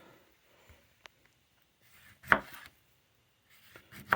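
A Casstrom Forest Knife with a 4-inch blade cuts into an orange, giving a few quiet, sparse slicing and cutting sounds with one sharper, louder cut near the middle and another at the very end.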